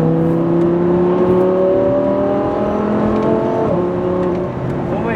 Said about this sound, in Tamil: அந்த எக்ஸாஸ்ட் நோட் கேட்கும் போதே வந்து பயங்கரமா இருக்கு.